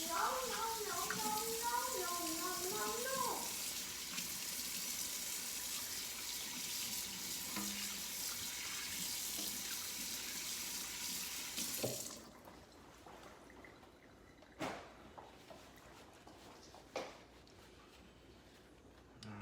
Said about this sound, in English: Go ahead and wash my hands.